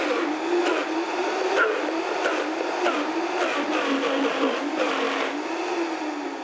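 A blender whirring loudly and continuously as it mixes a mayonnaise-like emulsified sauce, a steady close motor drone with slight fluctuations.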